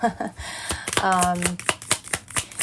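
Tarot cards being shuffled by hand in quick, papery riffles and taps that come in a steady rhythm, close and clear, while a person talks over them.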